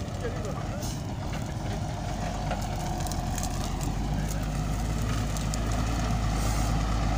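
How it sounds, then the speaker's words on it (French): A truck arrives at a sandy construction site, its heavy engine rumbling and hissing continuously nearby, with faint voices mixed into the steady noise. "le camion vient d'arriver"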